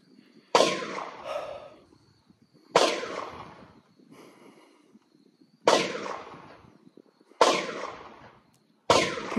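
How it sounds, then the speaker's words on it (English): Gunshots from people firing at an outdoor shooting range, five sharp reports spaced a couple of seconds apart, each with a short echoing decay, fairly distant, with no talk. "People shooting at the range"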